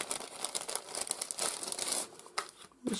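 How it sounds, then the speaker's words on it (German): A plastic mail bag being opened and handled, giving nearly three seconds of loud, close crinkling and rustling in irregular bursts, with no talk during it. "Ich hoffe, es raschelt euch nicht zu sehr."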